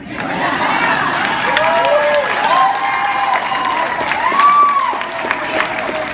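Large outdoor campaign rally crowd in Delano, California, with sustained clapping and cheering, shouts and whoops rising over a steady roar of applause throughout.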